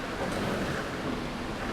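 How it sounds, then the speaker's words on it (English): A car wading through a deep river with water up around the front bumper and wheel arches, producing a continuous rushing, sloshing wash of water with wind noise over the microphone. "The water here is going to come up just over the front bumper, or around the front bumper, up to the wheel arches."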